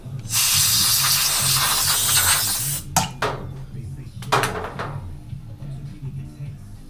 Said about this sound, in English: Just blow out the seal on that reader head.